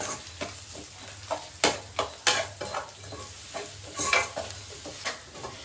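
Tomatoes, onions and ginger-garlic paste sizzle in a pan while a spoon stirs and scrapes repeatedly, producing irregular clinks and bursts over a steady frying hiss.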